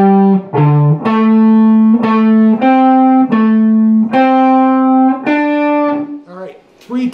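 Distorted electric guitar lick: a loud, gritty run of picked and bent notes in a steady rhythm, close-miked, fading on a final ringing note.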